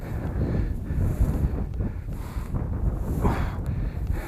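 Strong gusts buffet the microphone outdoors in open scrubland, giving a loud, continuous low rumble with uneven surges throughout and no voices.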